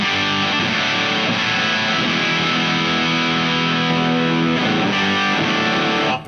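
An electric guitar through a Boss DS-1w distortion pedal rings out in continuous chords, thick and saturated with sustained harmonics, loud and steady before cutting off at the end.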